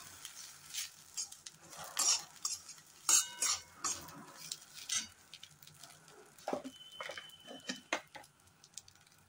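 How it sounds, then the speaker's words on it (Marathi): Fried okra folded into masala in a pan, a spoon scraping and clinking against metal in uneven bursts with a faint sizzle underneath, fairly quiet and close. "आता ही चांगली तेलात भाजलेली भेंडी ह्याच्यात घालायची आहे आणि चांगलं मिक्स करून घ्यायचं आहे"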